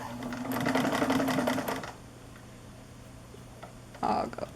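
Manual mechanical sewing machine stitching a dense satin stitch, a fast rhythmic mechanical chatter lasting about two seconds, followed by quiet and a short spoken remark.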